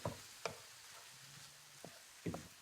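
Ground turkey browns in a pan with a quiet, steady background sizzle, broken by a few sharp spatula scrapes and knocks against the pan.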